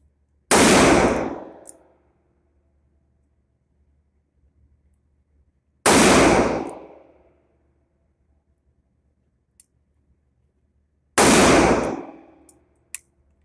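RG model 66 six-shooter revolver fired at a target, three sharp, loud, ringing shots spaced about five seconds apart, with quiet pauses between them.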